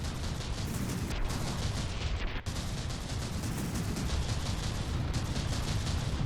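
Mortar fire during a battleship battle in From the Depths comes as a dense, continuous barrage of booming shots and blasts, a steady rumbling wall of fire at moderate level with no talk.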